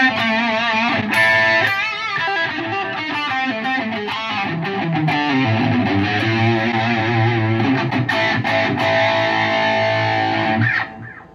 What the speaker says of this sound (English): But I like having the overdrive because it adds a little bit of an